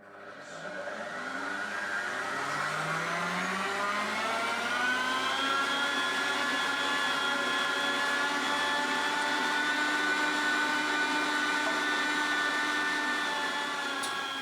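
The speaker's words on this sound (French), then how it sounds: "Donc là, on vient de hacher nos oignons" An electric food chopper mincing onions runs with a steady high motor whine that rises in pitch as it spins up, then holds loud and continuous for over ten seconds before cutting off.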